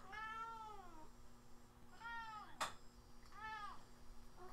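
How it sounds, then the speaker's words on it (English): A house cat named Charles meows three times indoors, each a clear rising-and-falling cry spaced about a second apart, with a brief sharp noise between the second and third. "I got a cat. So you're going to hear Charles, I'm sure."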